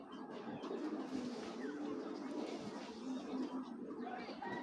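Racing pigeons, including a silver cock bird, coo quietly in a low, continuous rolling murmur.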